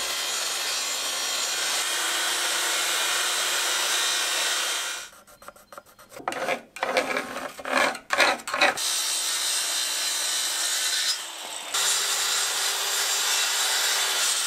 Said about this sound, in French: Bon c'est parti, on va scier.